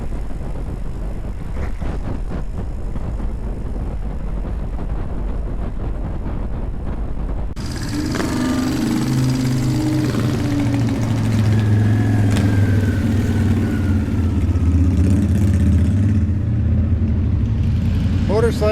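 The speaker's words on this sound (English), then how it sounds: "Motorcycles on a bike trail, because why not," Motorcycle engines rumble past nearby on a bike trail near the Chain of Rocks Bridge, growing louder partway through and staying prominent, a low steady drone with wind noise.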